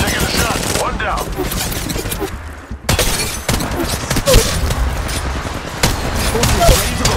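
Dense gunfire in a ranked Apex Legends match, loud rapid bursts of shots, a brief lull, then more volleys and sharp cracks, with game voice callouts mixed in.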